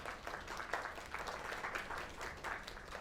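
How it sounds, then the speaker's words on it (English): A video game crowd applauds steadily for a few seconds, dense overlapping clapping at moderate volume with no voices. "Another round of applause."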